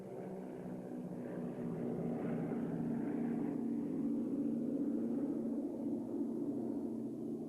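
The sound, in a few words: Lockheed 10A propeller airplane flying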